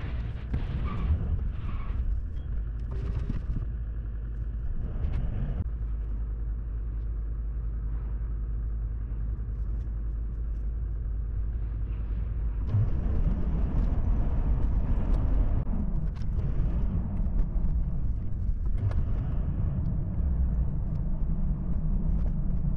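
A car drives along a road a few kilometres out toward a city lookout, heard from inside as a steady, loud low rumble of engine and tyres that grows heavier in the second half, with no talk.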